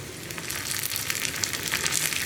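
Cut dried red chillies and curry leaves fry in hot oil, a dense close hiss with tiny crackles throughout.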